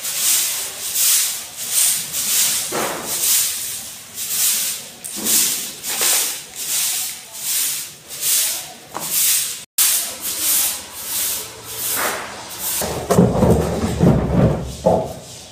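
Big broom sweeping a floor at home during Govardhan Puja cleaning, a steady rhythmic run of close scratchy swishes, about one stroke every half second, ending with a louder, rougher burst of scraping.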